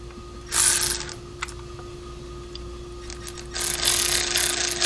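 Ratchet snugging bolts on a 2012 BMW X3 engine that runs rough, heard as two close bursts of rapid clicking separated by a few faint clicks over a low steady hum.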